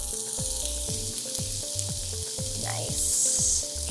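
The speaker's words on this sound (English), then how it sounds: "my onions are getting sauteed in this pan, just until they're a little translucent" Onions sizzle and crackle steadily in bacon fat in a hot pan, a close, continuous frying hiss with a regular rhythmic clatter running beneath it and no talking.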